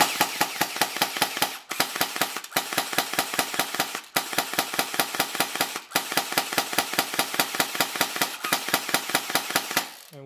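An M4 Terminator V1 toy blaster firing on full auto, a fast, sharp, evenly spaced mechanical rattle in several bursts with tiny gaps between them, loud and close.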